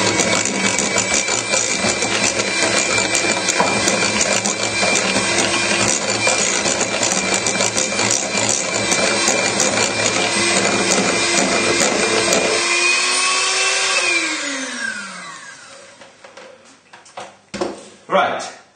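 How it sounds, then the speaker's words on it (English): Cupcake batter is whisked in a bowl with a long run of rapid, even ticking and rattling. The sound then slows, thins out and stops, leaving a few scattered knocks. "just give it another whisk, and we should be done"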